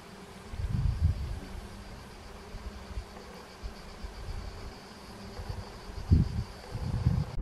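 Bees buzz in a lavender field in Provence, France, a faint, steady low drone with a few louder passes as insects fly close, set against soft outdoor ambience and no talking.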